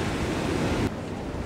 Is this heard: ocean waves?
yes